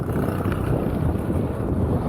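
Strong wind buffets the microphone in a steady, loud roar during a long bike ride past rice fields in Pangasinan, with no voices.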